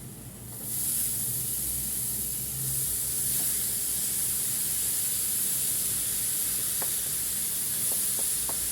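Greens go into a hot pan of spices, and a loud, continuous hissing sizzle starts abruptly and holds steady, with a few faint clinks near the end and no talking.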